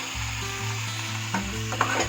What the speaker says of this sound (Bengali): আদা আর পেঁয়াজ কাঁটাটা ভাজা হয়ে এসছে